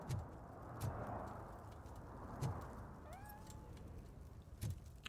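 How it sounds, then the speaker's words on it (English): A cat in the video game RoboCop: Rogue City gives a short meow, brief and faint under a steady ambient background with a few soft thumps. "I heard a kitty."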